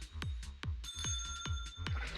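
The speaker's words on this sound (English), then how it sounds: "The searing toll of the fragrant bell echoes" Game sound effect of a tolling bell in a tiger-themed video game, with a series of bright, resonant metallic strikes roughly every quarter second that leave long shimmering overtones ringing underneath, clear and close with no voices.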